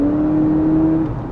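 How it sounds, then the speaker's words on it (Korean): A Honda CR-V 2WD engine in sport mode holds a loud, steady droning hum with a low rumble beneath, heard from inside the vehicle, fading slightly at the end. "더 강한 엔진 소리와 함께 차가 좀 더 반응이 빨라지기는 해요."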